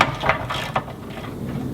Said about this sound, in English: Now, as I remove the last nut,